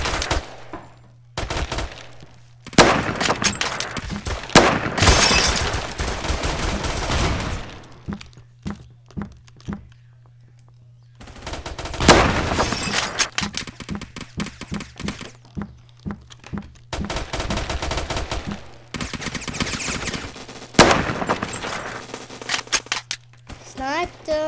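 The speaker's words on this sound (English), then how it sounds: "you shoot them in the head with a sniper" Sniper rifle shots in a Roblox shooter game ring out as sharp bursts separated by pauses, with other gameplay clatter and a steady low hum running underneath while people talk.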